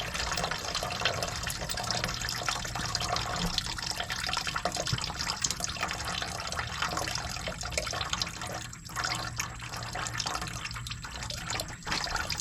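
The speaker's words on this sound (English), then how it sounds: "All right, so I'm going to let this drip" Coolant drips from the engine drain of an Isuzu NPR truck, a steady broadband watery trickle running for the whole stretch with no talking.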